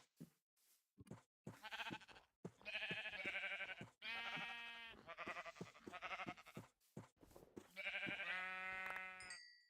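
Sheep in the video game Minecraft give a series of close, clear, wavering bleats in quick succession, with short gaps between calls and no talking.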